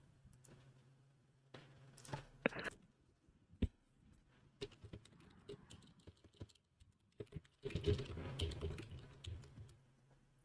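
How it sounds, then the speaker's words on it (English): Loud, close computer keyboard typing in irregular bursts of clicks and clatters, with a dense flurry near the end and brief pauses between. "typing is super loud"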